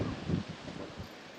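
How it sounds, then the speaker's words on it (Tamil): Strong wind gusts buffet across an open rooftop terrace, a steady, fairly faint rushing with brief surges. "காற்று தாங்க செமையாக அடிக்குது."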